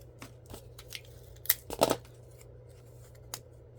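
Scissors snip through paper while making a paper dragon, with a few quiet cuts followed by a louder cluster of crisp snips, close and alone with no talking.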